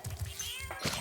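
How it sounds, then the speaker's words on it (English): A cat meows in Spyro Reignited Trilogy, Ripto's Rage, a short close meow over light game background sounds, with a second brief call near the end. "Meow. That's what it sounds like."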